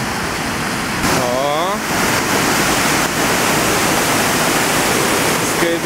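Cold, clear water rushes steadily at the source of the Drina river, a loud, continuous broadband roar heard up close, with a few faint bird chirps over it.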